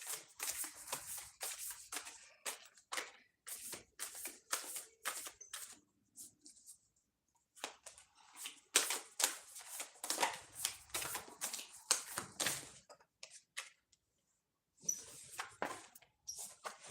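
Thick tarot cards are shuffled close up in quick bursts of papery riffles and slaps, with short pauses between rounds.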